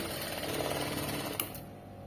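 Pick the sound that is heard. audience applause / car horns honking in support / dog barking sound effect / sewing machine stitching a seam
sewing machine stitching a seam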